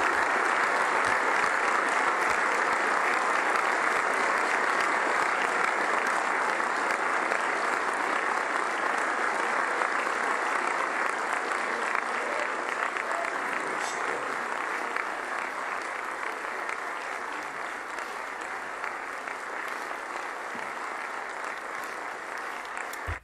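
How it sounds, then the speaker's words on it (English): Members of Congress from both parties stand and applaud, filling the chamber with loud, sustained clapping that continues unbroken throughout and only eases slightly toward the end. "They're all clapping"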